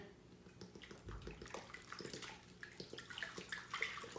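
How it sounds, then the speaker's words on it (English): Dr Pepper soda is poured into a crockpot over pork, a faint fizzing, splashing trickle with small pops and drips that builds slightly over a few seconds. "I'm just gonna take this and pour it in here."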